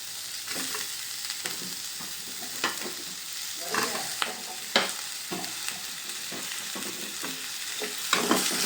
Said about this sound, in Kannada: ಫ್ರೈ ಮಾಡ್ಕೊಳ್ಳಿ. ಫ್ಲೇಮ್ ಜಾಸ್ತಿ ಇಟ್ಕೊಂಡೇ ಮಾಡ್ಕೊಳ್ಳಿ.